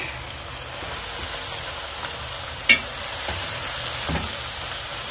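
Tripe (matumbo) being stirred in a cooking pot, a soft scraping stir with a single sharp clink against the pot partway through, over a low, steady background hiss.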